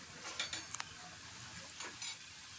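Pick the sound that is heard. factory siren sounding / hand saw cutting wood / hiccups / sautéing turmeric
sautéing turmeric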